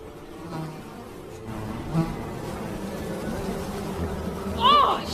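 Flies buzzing in cold winter air inside a storage shed: a faint, wavering insect drone that rises into a brief, sharper buzz near the end, partly under a low voice.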